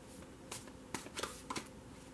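Tarot cards being shuffled by hand, a soft papery riffle with several quick crisp bursts of card flicks at close range, quiet between them.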